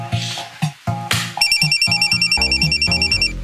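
Phone tones during an outgoing call: a quick series of dialing beeps, then a rapid, steady electronic ringing pattern repeating close and clear, with no talking.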